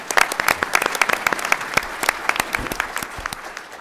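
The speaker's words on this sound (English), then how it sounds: "Let's give them a big round of applause." An audience at an engineering forum claps steadily, dense overlapping handclaps filling the room for several seconds at a lively, even level.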